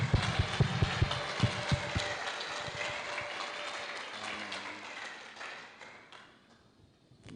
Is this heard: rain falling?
no